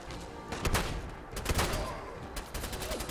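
Video game gunfire from a shooter played on an afternoon stream, with dense overlapping bursts of shots landing in clusters over background game noise.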